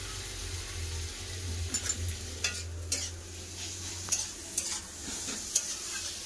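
Onions with chili powder being stirred and fried in a pan: a low steady sizzle runs underneath while a spoon scrapes and knocks against the pan in scattered sharp clicks, close up, with no voices.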